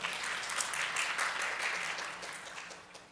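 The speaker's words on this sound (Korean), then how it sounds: "다시 한번 유병준 교수님께 큰 박수 한번 부탁드리겠습니다." Applause from a conference audience for a Seoul National University professor after his talk on platform business, a steady, moderately quiet wash of clapping that tapers off toward the end.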